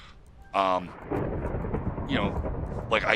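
Thunderstorm in the game Minecraft, a low rumble of thunder with rain hiss, while someone talks over it.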